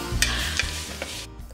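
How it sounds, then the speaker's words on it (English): Onions sizzle in a pan while a utensil stirs them, three quick scraping strokes over a soft frying hiss before the sound cuts off, close and moderately loud. "just make sure you give them a little stir while they're cooking"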